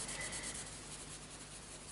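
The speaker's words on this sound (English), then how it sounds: "put the crayon onto the paper" A Neocolor I wax crayon rubs across printed paper in quick, scratchy back-and-forth strokes, faint but close, with no voices.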